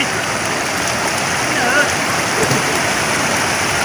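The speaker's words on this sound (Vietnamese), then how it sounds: "Con mưa." Outdoor rainfall heard as a dense, even hiss of drops at fairly close range, steady throughout with a few faint background sounds.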